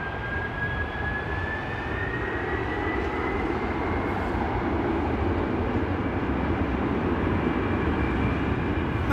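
Boeing 777 with Pratt and Whitney engines at London Heathrow Airport, a broad roaring jet rumble with a faint rising whine, steady and loud throughout without talk.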